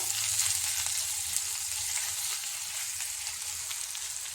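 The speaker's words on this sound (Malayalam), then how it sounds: "ഉള്ളി ബ്രൗൺ നിറമാകുമ്പോൾ അതിലേക്ക് നമുക്ക് ഒരു കാൽ സ്പൂൺ ഇഞ്ചിയും വെളുത്തുള്ളിയും ചതച്ചത് ചേർത്ത് കൊടുക്കാം എന്നിട്ട് ഇതൊന്ന് ഇളക്കി കൊടുക്കാം" Onion browning in a pan with a quarter spoon of crushed ginger and garlic, sizzling steadily and close with a constant bright hiss while being stirred for a curry, no voices.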